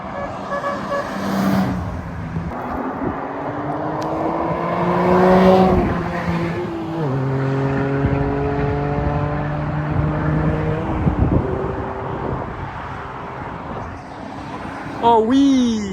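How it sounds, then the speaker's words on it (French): A Porsche 911 GT3 RS of the 997 generation accelerating on a Normandy motorway, its engine note climbing through several gears in rising sweeps, loud and close, with excited voices over it. "Oui, la GT3 RS 997. Putain, l'accélération."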